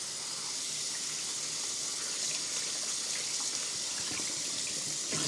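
Tap water runs steadily into a kitchen sink while something is washed, a continuous faint splashing gush with no talk.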